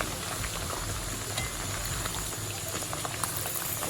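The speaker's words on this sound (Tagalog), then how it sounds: "Nagbabubble siya dahil sa itlog eh." Pork liver coated in egg batter fries in oil, a dense, steady bubbling crackle close by, continuous throughout with no talking.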